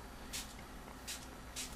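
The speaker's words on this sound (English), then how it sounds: "They say spray your fingers first, so let me just spray my fingers." Three short, soft hisses of a spray bottle spraying fingers, evenly spaced, over a quiet background hum.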